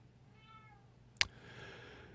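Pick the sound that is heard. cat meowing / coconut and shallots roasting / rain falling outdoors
cat meowing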